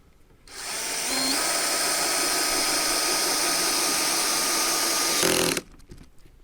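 A cordless power drill drives a screw into a deck cabinet, a loud steady high whine for about five seconds that shifts briefly as the clutch slips near the end before cutting off.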